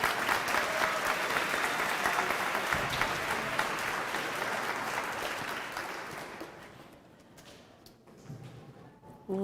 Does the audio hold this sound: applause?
yes